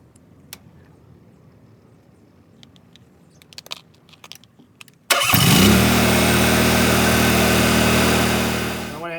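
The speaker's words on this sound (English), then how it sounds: "I'm actually going to prime it, and she should fire right up" A 2003 Onan Marquis Gold 5500 RV generator cranks and fires up abruptly after a few quiet clicks and handling noises, then settles into a loud, steady running drone for the rest of the time.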